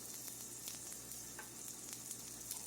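Homemade chicken balls of fresh ground chicken sizzle steadily in a hot cast iron skillet, a continuous close frying crackle with scattered pops and no voices.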